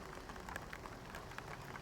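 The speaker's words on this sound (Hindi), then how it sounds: "बारिश रुक गई नहीं" Steady rain falling during a motorcycle ride, a faint continuous patter and hiss of drops with no talking.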